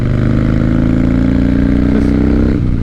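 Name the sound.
Harley-Davidson Dyna motorcycle engine idling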